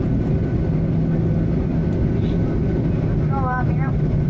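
Steady, loud low-frequency cabin rumble inside an ANA Boeing 737-800 touching down at Miyako Airport, continuous throughout, with a faint chime-like tone near the end.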